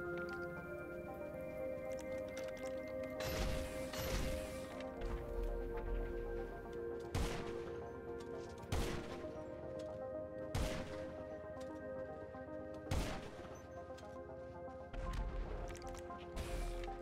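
Gunfire in GTA 5 Online: about half a dozen sharp, short shots, spaced irregularly, stand out from a steady, fairly quiet bed of game sound.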